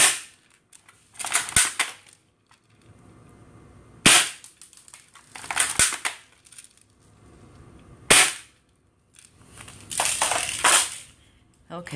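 Sharp cracks of a BB gun striking the screen of a knockoff PSP handheld, four separate bursts spaced a few seconds apart, each a bright snap followed by a brief rattle of plastic and debris, close and loud with quiet gaps between.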